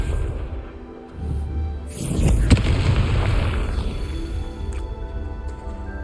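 A Confringo spell detonating in Hogwarts Legacy: a rising whoosh, then a loud deep boom with a sharp crack, decaying into a long rumbling tail, close and alone.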